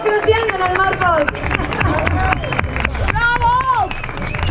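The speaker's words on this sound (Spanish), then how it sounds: "¡Con un aplauso fuerte!" Loud crowd applause fills the hall at the Spannabis 2018 awards ceremony in Barcelona, with excited shouts and cheering voices riding over the steady clapping.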